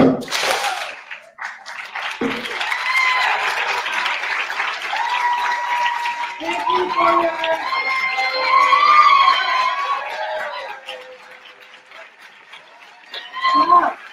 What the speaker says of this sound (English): when I say let's move, we all clap